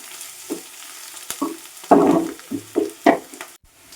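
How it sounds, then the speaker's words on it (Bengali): Onions sizzle in a hot pan as a spatula stirs them, producing a soft steady fry punctuated by several scraping, clattering strokes. "আর এই পেঁয়াজটা একটু খুন্তি দিয়ে ভালোভাবে নেড়ে নেব।"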